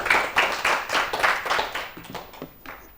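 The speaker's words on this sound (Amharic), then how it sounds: "አጨብጭቡላቸው፣ አጨብጭቡላቸው።" Studio audience claps for two children at a televised kids' quiz competition: a quick run of sharp hand claps, loud at first and thinning out toward the end.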